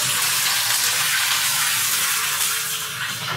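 Fish heads fry in hot oil in a small pan, giving a steady, loud, close sizzle throughout without talk.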